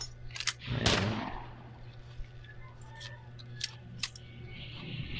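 Gun reload in the WW2 shooter World War Heroes: a few sharp metallic clicks and clacks spread across a few seconds, preceded by a louder burst, over a steady low game hum.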